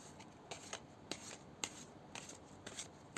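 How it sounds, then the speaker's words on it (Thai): Tarot cards being shuffled by hand, faint and close, a soft papery riffle with a series of crisp slaps and rasps repeating at a steady, uneven rhythm. "สับไพ่ก่อน"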